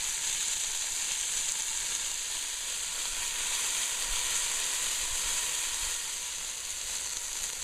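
Seared meat sizzles steadily in a hot pan after being flipped, a continuous bright crackling hiss that stays even and close throughout with no talking.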